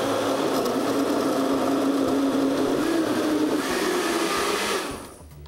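A blender whirs steadily as it blends ingredients with half a cup of water, a loud continuous motor drone that shifts slightly in tone before winding down at the end.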